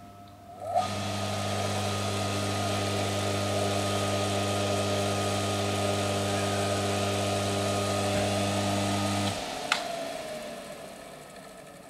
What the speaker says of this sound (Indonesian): Dan motor berhasil berputar, asnya berhasil berputar dengan bantuan tangan saya.